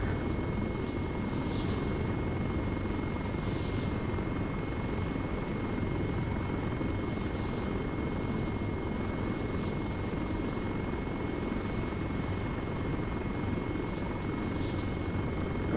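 Steady rotor and engine drone of a helicopter flying in the military game Arma 3, continuous and even at moderate level with a faint high whine, no talk over it.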